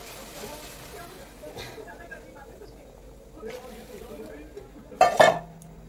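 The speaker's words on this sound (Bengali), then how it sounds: "ভালো করে নেড়ে চালানো বাবা" Sago pudding (sabu payesh) with milk being stirred in a pot, faint scraping and light clinks of a spoon against metal, ending in a louder clatter, with a person talking over it.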